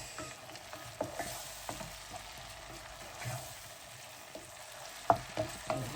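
Minced meat frying in its own fat is stirred in a pot, with soft steady sizzling and a series of scraping, clinking spoon strokes, the loudest near the end.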